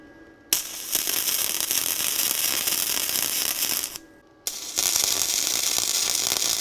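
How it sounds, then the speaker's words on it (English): An off-road trailer frame is tack welded. The welder gives a loud, close, steady crackling buzz for several seconds, stops briefly, then starts a second burst, with no talking. "we're just gonna give it a little tack"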